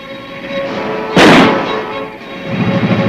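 A single heavy boom from 4.2-inch mortar fire erupts partway through and decays over about a second, set against a steady low background hum.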